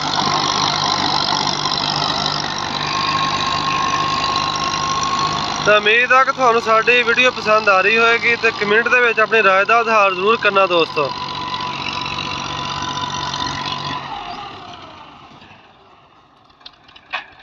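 An old Massey 240 tractor running with a wide rotavator in third gear, its engine a steady mid-pitched drone throughout, with someone talking over it for several seconds before the engine noise tapers off.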